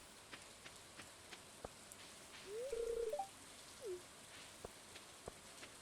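Steady soft rain patters across the farm in Stardew Valley, a faint continuous hiss with a few brief tonal game blips and a short low rustle in the middle.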